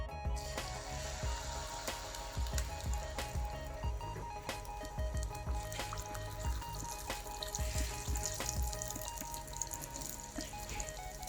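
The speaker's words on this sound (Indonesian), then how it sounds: "Lalu tuangkan adonan telurnya." Egg batter for a Padang-style omelette is poured into medium-hot cooking oil in a nonstick pan, giving a steady, fairly loud sizzle and crackle with scattered pops throughout.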